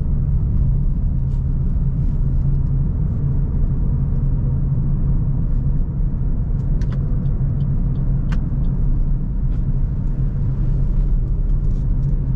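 Car engine pulling in third gear as the clutch is let out, a steady loud low rumble from inside the cabin on a regional road near Kudus, with faint traffic clicks above.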